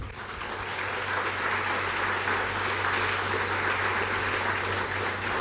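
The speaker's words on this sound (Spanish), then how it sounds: "¿Cuántos aplauden al Señor?" Church congregation applauding during a sermon, a dense, sustained wash of many hands clapping at once, loud and even throughout over a low steady hum.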